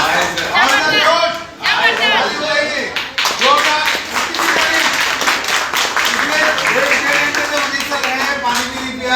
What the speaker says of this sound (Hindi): तालियां इतनी सी बजाओगे तो अगली बार क्यों आएंगे दिल्ली वाले लोगों के लिए